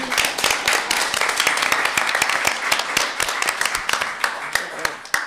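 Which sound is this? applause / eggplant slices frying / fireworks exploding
applause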